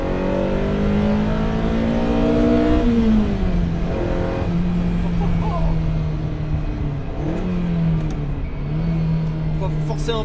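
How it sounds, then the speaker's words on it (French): A Ferrari 308 GTB engine revs and drones up close with a throaty intake growl from the right side intake, pitch rising and falling through double-clutched gear changes as someone talks over it. "le bruit d'admission qui arrive de l'entrée latérale droite de la voiture est fantastique"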